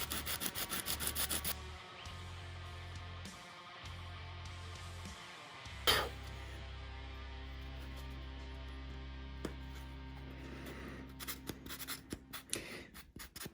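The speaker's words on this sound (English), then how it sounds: "Now I'm going to go to the actual nut itself and file off the excess glue." Fine rasping strokes of a file working excess glue off the nut of a JS22-7 guitar, close and quiet, with rhythmic back-and-forth passes at the start and end and a sharp knock midway.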